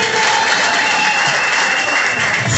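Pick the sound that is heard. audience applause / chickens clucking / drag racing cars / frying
audience applause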